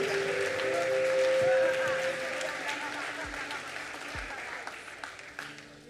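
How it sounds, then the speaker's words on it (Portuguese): Church congregation at a worship service applauding, a broad wash of clapping that swells early and then tapers gradually, with a sustained tone and a few thumps beneath. "Aplauda ao Senhor."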